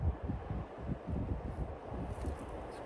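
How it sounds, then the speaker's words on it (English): Wind blowing around an outdoor beehive during a spring inspection, a steady low rumbling buffet with gusty surges across the microphone, continuous and fairly close throughout. "It's kind of windy."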